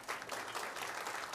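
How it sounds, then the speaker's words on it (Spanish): Congregation applauding in a church during a Spanish-language worship service, a steady broadband wash of clapping at moderate level throughout, fairly distant and diffuse. "Dele un fuerte aplauso a Cristo."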